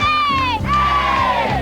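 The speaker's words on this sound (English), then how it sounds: "We call it the Walmart Cheer." Walmart employees shout their company cheer together in a loud, close crowd chant with sustained, rising voices over a steady din, like a pep rally.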